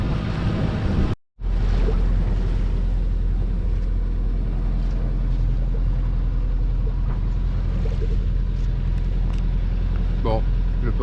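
A boat engine drones steadily on a calm, windless sea off Santa Maria in the Azores, with wind buffeting the microphone and a brief dropout near the start, while people talk over the motor.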